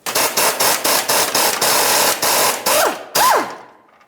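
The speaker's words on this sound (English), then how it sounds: "Go ahead and remove those bolts." A power tool whirs in a run of short, even bursts while the rearward transmission mount bolts come off a 2000-2005 Buick LeSabre. It ends in a longer pull and two rising whines, then falls quiet.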